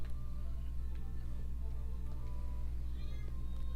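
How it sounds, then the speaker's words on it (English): A cat meows in The Legend of Zelda: Echoes of Wisdom, a few soft, short game-style mews over a steady backdrop of looping game music and ambience. "Ooh, a cat is here."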